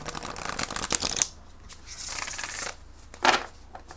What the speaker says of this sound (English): I also just want to pull from my own oracle deck, the My World Oracle